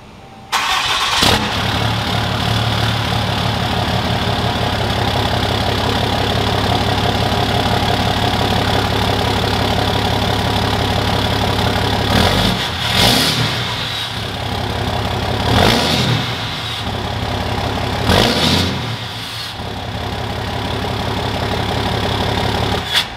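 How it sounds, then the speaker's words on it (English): A RAM Cummins diesel crew cab long bed pickup idles with a factory 4-inch turbo-back exhaust that has been fully deleted. The engine note is a steady, loud, close rumble, with a few short revs or surges partway through and no talking. "So that was the factory 4-inch turbo back, fully deleted exhaust sound on my crew cab long bed."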